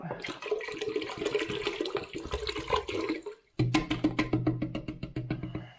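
Hot water pours in a rushing, splashing stream for about three seconds, stops briefly, then resumes as a burst of rapid, gurgling splashes.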